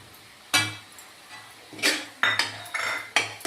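Spoon scraping and knocking against a pan while coconut sweet mixture with cardamom powder is stirred on low heat; several sharp metallic clinks and scrapes in irregular bursts, close and clear, with no talking.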